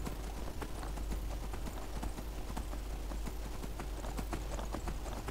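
Galloping horse hooves in Skyrim, a steady run of dense clip-clop beats over a constant outdoor game ambience, loud and close throughout with no talking.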